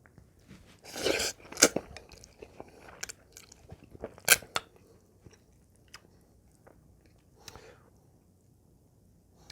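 Close, crunchy chewing and biting of spicy Samyang Buldak fire noodles, cooked about five minutes and a little less chewy than usual, in a few separate bursts with quiet pauses between.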